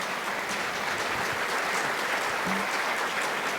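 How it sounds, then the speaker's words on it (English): Sustained applause from an audience at a university talk, a steady dense wash of clapping that holds evenly throughout with no voices on top. "I don't know what you are applauding"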